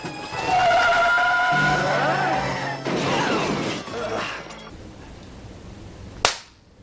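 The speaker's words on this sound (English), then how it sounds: "Hey, Rich, the cops! Stop the truck" A truck in a chase scene from the film Killer Klowns From Outer Space skids to a stop with a loud, sustained squeal. The noise fades before a sharp, sudden bang near the end.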